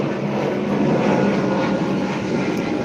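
A propeller airplane passing overhead near an airport gives a constant, fairly loud engine drone with a broad rushing wash, alone without speech.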